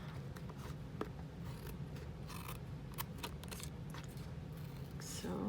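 Scissors snip along the paper cover of a mini composition notebook, a series of short close cuts and light crisp clicks over a steady low hum, with a brief voice in the background.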